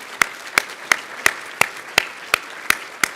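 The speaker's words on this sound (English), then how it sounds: "Let's give all that support system a round of applause" Applause at a sports hall of fame banquet honors the inductees' support system, heard as crisp, evenly paced claps roughly three per second that stand out clearly over a soft hall murmur.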